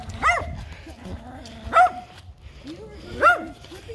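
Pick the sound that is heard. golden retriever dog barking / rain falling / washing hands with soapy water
golden retriever dog barking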